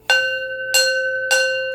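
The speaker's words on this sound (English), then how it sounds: "So I'm gonna ring my bell and we're gonna get started." A bell is struck three times at a slow, even pace, each clear ringing tone sustaining and fading gently before the next strike, close and alone.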